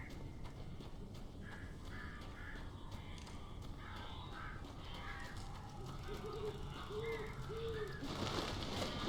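Crows cawing in the Alan Wake video game, several repeated harsh caws in short bursts over a dense, murky ambient background, with talk present.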